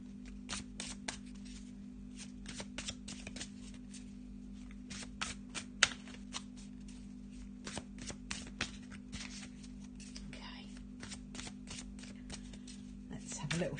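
Tarot cards being shuffled in quick riffling bursts with soft clicks and taps, close up over a steady low hum, with quiet speech in places.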